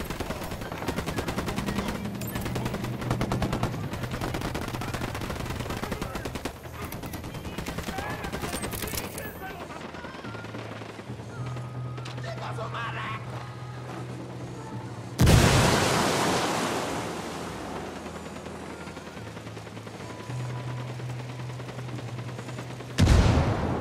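Sustained automatic gunfire and scattered shots from a firefight between UNIDAD soldiers and rebels in the video game Ghost Recon Wildlands, dense and continuous, with loud bursts near the middle and end.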